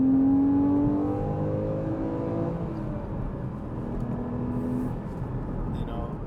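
Porsche Cayman 981 with a naturally aspirated engine pulling hard in second gear toward 6,500 RPM, a rising engine whine that fades into steady road and engine noise from inside the car.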